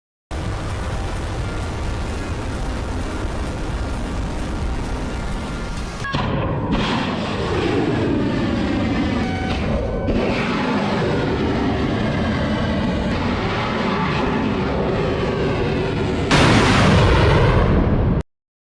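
Bombing explosions rumble in a long, dense roar, with booms layered one over another and several abrupt loud bursts breaking through. No talk is heard.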